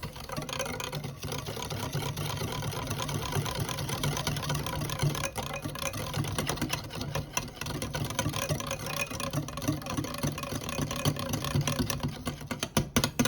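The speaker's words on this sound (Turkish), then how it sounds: "Çırpıcıyla güzelce tüm malzemelerimizi çırpalım." Hand mixer whisking lemon cookie batter, a steady close mechanical whir with rattling beaters that runs continuously for the whole stretch, with no talking.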